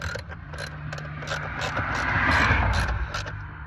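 Cheap $8 Hyper Tough ratchet wrench from Walmart, already falling apart, clicking in rapid repeated pawl ticks during work on a 2011-2013 F-150 steering column, close and fairly loud with a steady low hum underneath.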